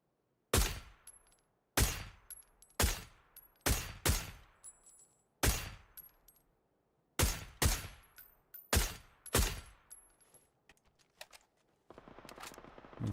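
Gunfire in PUBG on console: about ten sharp, loud single shots at irregular intervals, each trailing off with a short echo, ending in a stretch of faint rustling.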